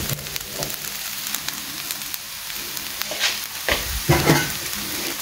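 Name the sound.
stirring kanda batata poha in a pan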